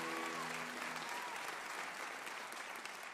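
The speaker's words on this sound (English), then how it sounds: "they deserve a big round of applause" Warm, sustained applause from a live studio audience at a folk music broadcast, a broad even wash of many hands clapping at once with faint voices briefly audible at the start.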